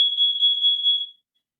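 A CO2 alarm gives a single sustained high-pitched electronic beep lasting about a second, then stops into silence.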